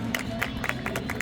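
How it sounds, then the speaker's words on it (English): An outdoor crowd at a Mini stunt show at Brands Hatch's 2024 Mini Festival claps in a brief burst of sharp, scattered hand claps over a steady background hum. "Give him a round of applause."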